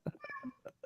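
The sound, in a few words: cat meowing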